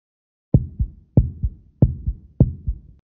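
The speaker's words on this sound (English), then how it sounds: "Good. Your heartbeat is regular." Stethoscope heartbeat from a Blue's Clues video game, four steady lub-dub pairs in a regular rhythm, close and clear with no talk.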